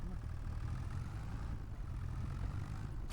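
Tractor engine in Farming Simulator 25 idling steadily, a low continuous rumble with a faint mechanical flutter holding at even loudness throughout, with no voices.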